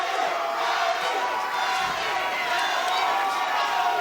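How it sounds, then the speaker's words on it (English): Boxing arena crowd at Tevin Farmer vs Emanuel Gonzalez chanting Manny, a steady loud roar of many voices sustained throughout with a rhythmic chanting texture and no pause. "Listen to the crowd chant Manny"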